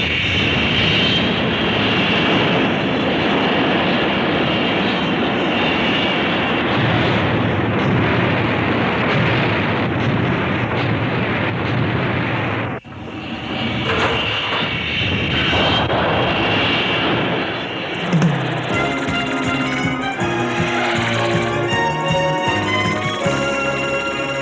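Cartoon spaceship patrol taking off, a loud sustained roaring rumble of engines with a brief dip midway, then the roar continues as higher tonal sounds and music rise toward the end.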